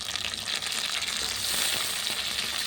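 Chopped tomato hisses loudly in a hot pan of fried onions and tempering spices, a steady close-up sizzle with no voices.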